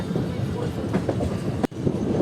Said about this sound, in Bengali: আমাদের ট্রেন সিগন্যাল পেয়েছে এবং ট্রেন ঢুকছে এখন খানা জংশন রেলওয়ে